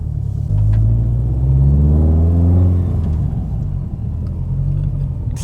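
Deep, loud engine rumble from an 800 whp Subaru STI fitted with a T51R turbo mod, rising into a rev around the middle before settling back to a steady rowdy idle, close up with no talk.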